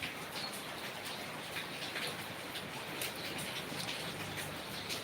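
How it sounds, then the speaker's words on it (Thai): Heavy rain from Storm Bualoi falls in a steady, dense hiss throughout, and birds coo faintly in the background. "บรรยากาศฝนครับตอนนี้นะครับ แรงทีเดียวนะครับ"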